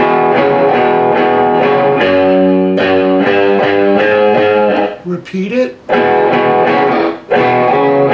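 Distorted electric guitar playing the intro riff of a song, loud sustained chords with brief rhythmic breaks, and a short spoken voice near the end.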